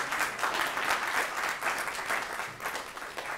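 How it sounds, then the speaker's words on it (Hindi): Strong audience applause at a theatre performance, many hands clapping in a dense, slightly pulsing rhythm that carries on steadily throughout. "हम ये चाहेंगे कि आप एक बार जोरदार तालियां बजाएं।"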